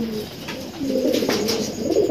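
Racing pigeons coo in a loft, with soft repeated cooing calls rising and falling steadily and close by across the whole stretch.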